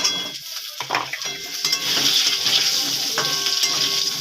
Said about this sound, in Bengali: এবার দিয়ে দেবো কুচিয়ে রাখা আলু।